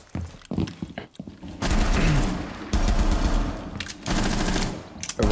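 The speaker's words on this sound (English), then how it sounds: "Just shoot this guy." Rapid pistol gunfire in the tactical shooter Rainbow Six Siege, sounding as several dense bursts of shots with short pauses between them, loud and close, with only faint talk in the background.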